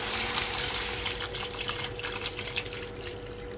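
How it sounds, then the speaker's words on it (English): Water from a kettle pours into a pot of stewing goat meat, a steady close splashing gush that carries on throughout with no talk over it. "So I add almost all the water from my kettle, the whole jug."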